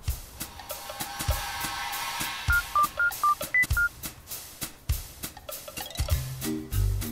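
A telephone number is dialed to call the police, with a quick series of distinct electronic tone beeps over rhythmic background music and thumping beats, then a ringing tone near the end.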